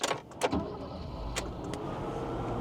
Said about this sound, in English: Starts super smoothly and very nicely running motor.